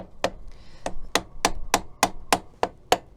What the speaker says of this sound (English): this is a rubber faced mallet. So just to shock it off, a bit like a impact driver.